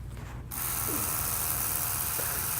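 Tattoo machine buzzing continuously up close while its needle shades a portrait, a steady mechanical whir that starts abruptly and holds level throughout.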